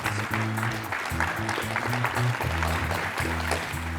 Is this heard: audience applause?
yes